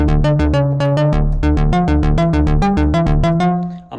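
Sampled synth bass with the mod wheel off, a loud run of punchy, plucky notes in a quick steady pattern, each with a sharp bright attack that fades fast, ending on a short decay.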